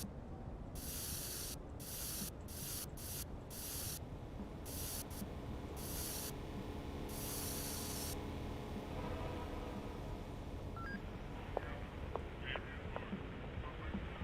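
Repeated bursts of aerosol spray paint in a video game, several short hisses in an uneven rhythm followed by a longer burst, over a steady background ambience with a few faint blips.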